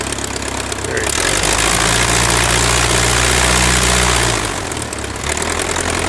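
A 1912 Taube F aircraft engine, converted from inverted to upright, runs loud and close, a deep rumbling drone that rises in power and then drops back to idle, with wind noise.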